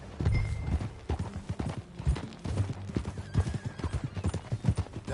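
A horse is ridden in a video game, its hooves clopping in a quick, uneven rhythm near the listener, with a neigh mixed in.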